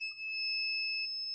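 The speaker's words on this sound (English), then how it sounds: "This is the RAM power supply, which is beeping to ground." A multimeter gives a steady, continuous continuity beep while testing a coil on a laptop motherboard, a clear high tone with no talk.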